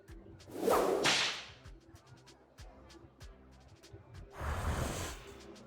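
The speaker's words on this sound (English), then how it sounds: "Peaches really responded well to the crack of the whip." A riding crop cracks twice in the Lil Guardsman video game, each crack a sharp whooshing snap with clicks and a low game hum between them, close and fairly loud.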